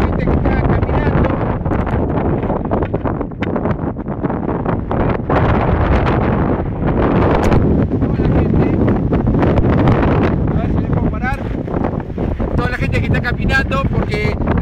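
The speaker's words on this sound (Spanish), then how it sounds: "me cuesta mantenerme parado por el viento que hay" Strong wind buffets the microphone outdoors among a crowd of people walking, roaring in continuous loud gusts across the whole stretch, with occasional talk underneath.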